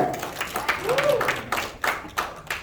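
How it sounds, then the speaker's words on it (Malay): A seminar audience claps for their leader, a brief patter of hand claps in a hall with a few sharper individual claps and some voice-like sounds mixed in. "berikan tepukan pada kita punya leader sana"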